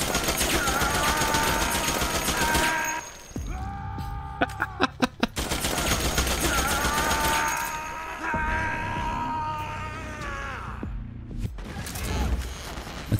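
Rapid automatic gunfire from a machine gun in Metal Gear Solid 4, loud bursts of close, dense firing with a brief gap of sharp separate shots in the middle, set against a steady game soundscape.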